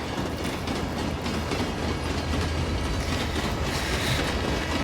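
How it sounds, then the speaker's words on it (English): A train rumbles loudly and steadily nearby, with rhythmic clickety-clack of wheels over the rails and faint squealing, continuing for about five seconds before cutting off abruptly. "I could hear the train getting louder and louder, like it was coming with a full head of steam towards her direction."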